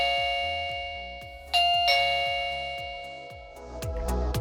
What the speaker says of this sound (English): You will hear an audible tone when the Chime is successfully paired.